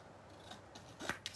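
Scissors snipping through foiled black card, a few quiet crisp cuts close by, the clearest snip near the end.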